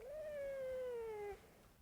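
A cat gives a single long, drawn-out meow that slowly falls in pitch, fairly close and clear against a quiet background.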